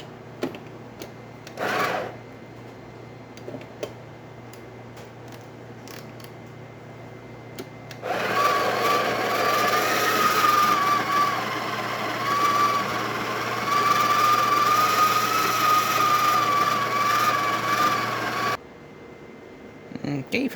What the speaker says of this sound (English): We have brand new coffee in there, and we're gonna be grinding in the number 2 setting.